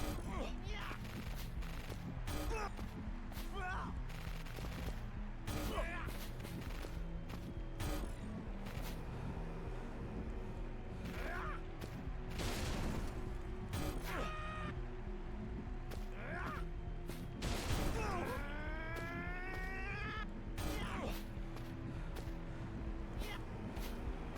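Gunfire from the player's gun in Concluse 2 cracks out in repeated sharp shots and short bursts, scattered irregularly across the stretch among mechanical clatter and game effects, with voices talking through much of it.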